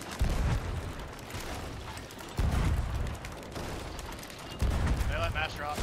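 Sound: ship cannons firing in a video game

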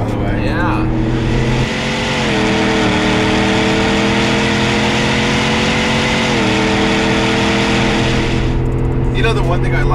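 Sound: supercharged GMC Yukon AT4 engine accelerating, exhaust note

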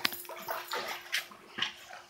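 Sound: dogs swimming and splashing in water

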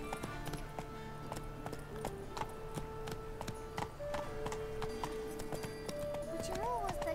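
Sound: horse galloping in video game The Witcher 3

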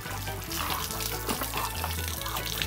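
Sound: water poured while bathing horses

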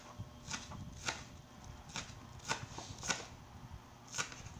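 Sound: knife chopping green onions finely

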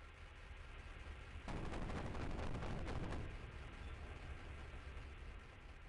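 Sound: aircraft cannon fire in a flight combat video game

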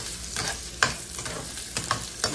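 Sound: frying boiled chicken gizzards in a pan

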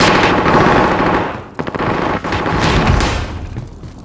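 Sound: gunfire in video game Call of Duty: Modern Warfare

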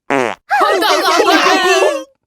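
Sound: fart sound effect in a children's musical

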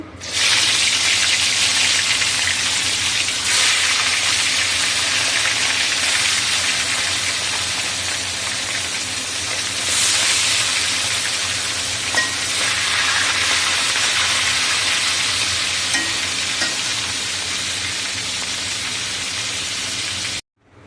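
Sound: hilsa fish frying in hot oil

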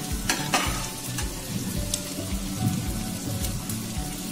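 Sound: potatoes and onions frying and being stirred for noodles

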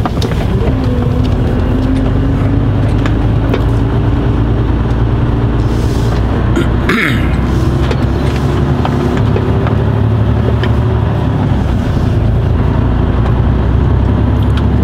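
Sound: car driving forward

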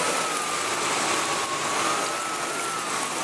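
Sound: Sebo Felix upright vacuum cleaner switched on and running

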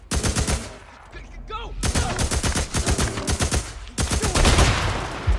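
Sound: gunfire at a bear in video game Days Gone

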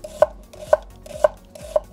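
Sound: thinly slicing onion into half rings

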